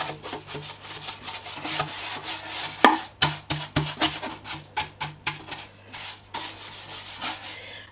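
A paint brush works chalk mineral paint onto wooden furniture, making repeated rhythmic scrubbing and rubbing strokes that are close and fairly loud, with no talk.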